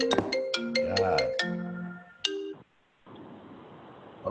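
A mobile phone ringtone chimes in a quick run of bright, plucked notes, then cuts off abruptly, leaving a brief silence before the room's hiss returns.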